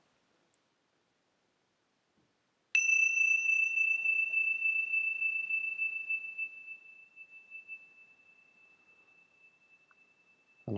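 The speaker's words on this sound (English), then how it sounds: "every so often I'll sound the bell" A meditation bell struck once, a bright clear ring with a sharp onset that sustains and slowly fades over about eight seconds in an otherwise quiet room.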